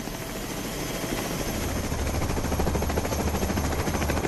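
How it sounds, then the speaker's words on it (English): Marine One and several other helicopters fly together toward Manhattan, with a loud, steady rotor thump and engine roar that grows slightly stronger over the span. "Staff, press, and an elite Secret Service team will follow in 3 other choppers."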